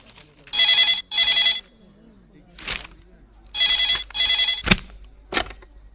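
A telephone rings in two double bursts of bright electronic trills, with short pauses and a few faint voices and knocks in between.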